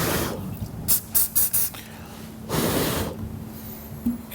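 CA glue activator sprayed onto a nutsert in a Harley-Davidson speaker lid, several short close hissing spray bursts in quick succession followed by a longer hiss, quiet between bursts.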